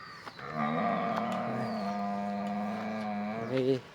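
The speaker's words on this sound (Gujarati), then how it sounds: "માલિયાની ગાયું છે બે" Cows mooing inside a cattle shed on a farm: one long, loud, drawn-out moo close by that swells and ends with a rising bellow, with no talking.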